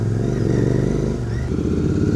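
A motorcycle engine runs steadily at a low, even rumble for the whole stretch, close and loud, with no clear revving, on an early-morning street before a ride from Kolkata toward Mandarmani on a bike low on fuel.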